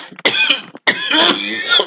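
Two harsh coughing bursts up close, a short one followed by a longer, rougher fit.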